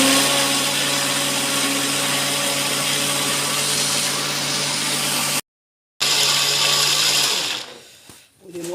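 An electric blender whirs loudly and steadily as it mixes ingredients for homemade Nutella-style chocolate spread, cuts out for a moment, starts again, then winds down and slows near the end.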